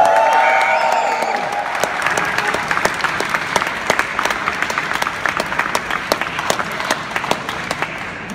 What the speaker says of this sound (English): Ladies and gentlemen, make some noise for Ball Control!